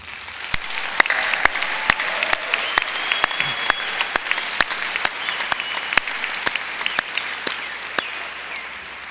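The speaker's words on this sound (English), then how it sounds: "Let's give this outstanding group of graduates a round of applause." An arena audience at a spring arts and sciences commencement applauds the graduates, producing a dense, sustained roar of clapping with crisp individual claps close by and faint voices mixed in.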